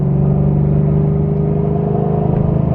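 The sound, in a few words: Camaro exhaust rumble with headers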